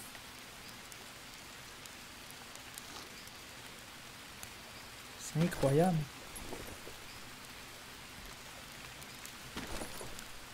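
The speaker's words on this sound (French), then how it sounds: "Il pleut encore, il pleut tout le temps" Steady, soft rain falls without pause in the survival video game Green Hell, a quiet hiss throughout, while someone briefly speaks over it in the middle.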